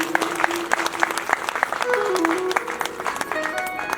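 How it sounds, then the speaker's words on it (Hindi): An audience at a religious discourse claps in welcome, brisk scattered applause mixed with musical tones and a voice speaking over it. "जोरदार ताली स्वागत करेंगे आपको।"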